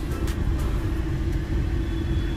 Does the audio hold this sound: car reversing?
yes